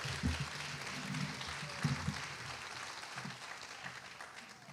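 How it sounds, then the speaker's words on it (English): Audience at a public schools Teacher of the Year ceremony claps in a steady round of applause, fairly faint and distant, fading slightly toward the end. "Please join me in giving a round of applause for all of you tonight."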